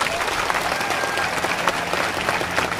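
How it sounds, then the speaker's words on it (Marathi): Large crowd at a Maratha community meeting breaks into sustained applause, a dense, even roar of clapping that fills the whole stretch without pause. "टाळ्या वाजवून कौतुक करू."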